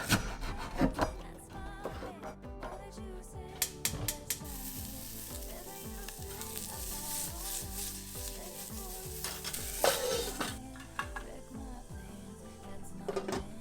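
Chopped tomato cooks with spices in a frying pan, a sizzle running under repeated scraping and rhythmic stirring strokes, with a voice speaking briefly at times.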